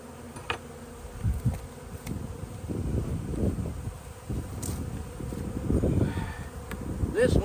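Bees buzzing around a beehive during a hive change, a dense, fluctuating low drone from many insects close to the microphone, with handling knocks and rustles mixed in.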